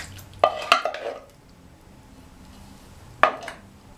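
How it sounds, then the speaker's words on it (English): Canned tomatoes being tipped into a pot of easy chili with pinto and red kidney beans, giving a couple of short wet clunks and scrapes against the pot, then a quiet pause and one more brief knock near the end. "And I'm going to put the tomatoes in."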